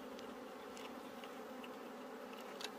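A steady, dense drone of Asian honeybees inside a native-bee hive, a continuous close buzzing hum with a few faint clicks and no voices.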